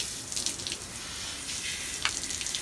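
Tap water runs steadily into a sink, a continuous hiss and splash at moderate level with a brief sharper splash near the end, no talking.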